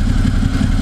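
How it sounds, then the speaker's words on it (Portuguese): A warmed-up motorcycle engine idles steadily up close, a loud, even low rumble with a slight mechanical clatter. "Deixei o motor esquentar. Já vou desligar ele aí pra tá começando a fazer a troca."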